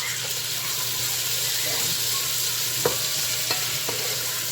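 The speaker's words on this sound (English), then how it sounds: "So let that bacon brown." Bacon fries in a pan with a steady, close hiss, and a few light utensil taps come through over it.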